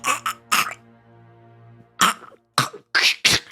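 A person coughs in several harsh, throaty bursts close to the microphone, with short pauses between the fits and some throat clearing.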